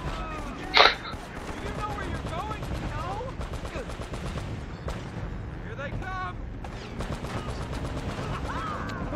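Heavy cannon fire in the Uncharted video game, heard as rapid repeated booming shots over a sustained battle din, with one sharp loud blast early on, under someone talking.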